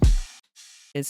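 Sampled bass synth, EQ'd and saturated, in an electronic track: a booming low thump, then two bright buzzy bursts separated by a brief gap, ending on a tonal stab, loud and isolated.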